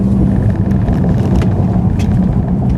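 Steady low road rumble and tyre noise fill the cabin of a Tesla Model 3 Performance as it slows under strong regenerative braking in track mode, a loud, continuous drone with no engine note.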